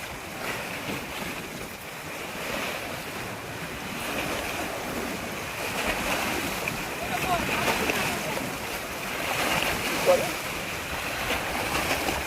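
Rough waves on a river surge and break continuously, loud and near, rising in slow swells amid gusts of wind against the microphone.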